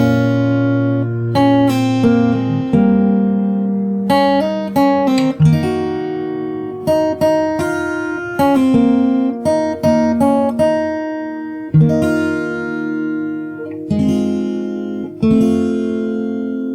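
Slow fingerstyle acoustic guitar plays the intro of a song, a close, clean sequence of plucked notes and chords in a steady, unhurried rhythm, each ringing briefly before the next, with no talking.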